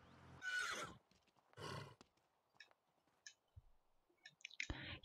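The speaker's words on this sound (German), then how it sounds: "Ich finde, er ist auch ein total cooles Pferd." A horse neighing in the video game The Sims 3 Pets, two loud, drawn-out whinnies followed by snorts, soft hoof clops and clicks in a quiet game setting.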